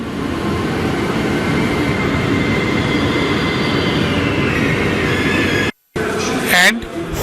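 A train in Naples rumbles loudly and continuously nearby, followed by a short break and a brief squeal of wheels.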